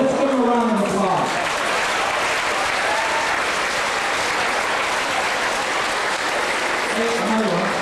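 A school-assembly audience gives a round of applause for students, a dense, steady wash of many hands clapping that fills the room for several seconds, with a voice speaking briefly at the start and again near the end.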